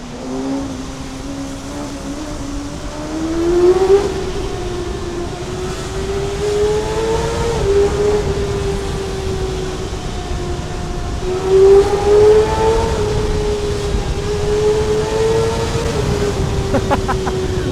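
A Kawasaki ZX6R motorcycle revs and accelerates close by, a loud, sustained engine drone climbing in pitch in surges around the fourth and twelfth seconds before settling back.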